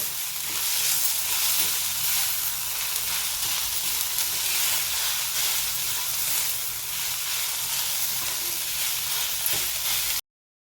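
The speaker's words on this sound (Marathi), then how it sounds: "पहा कांदा आपणाला इथंपर्यंतच आता भाजायचा आहे" Onion frying in a pan for a capsicum (bell pepper) dish, a loud, steady close hiss and sizzle that runs evenly and then cuts off abruptly near the end.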